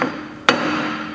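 A single sharp, ringing knock as a block of wood taps a SEAL outboard propeller to seat it, loud and close over a steady background hum.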